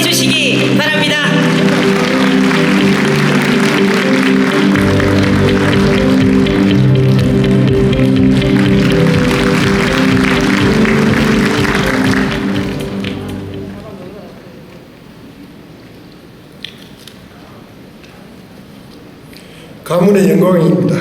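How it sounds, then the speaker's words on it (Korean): Delegates at a Korean regional party convention applaud loudly in a crowded hall, and the thick clapping runs on for about twelve seconds before fading to quiet room tone. A voice speaks briefly at the end. "뜨거운 박수로 맞이해 주시기 바랍니다"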